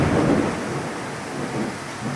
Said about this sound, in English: Guys, you can hear how it's raining.